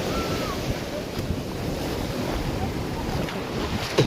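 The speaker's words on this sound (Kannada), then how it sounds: "ನಾವು ನಿಂತ್ಕೊಂಡಿದ್ರೆ ನಮ್ಮನ್ನೇ ತೊಳಿತೈತೆ ಅಲೆ," Strong waves surge and wash continuously along Murudeshwar beach, a broad, steady surf roar mixed with gusty wind noise on the microphone.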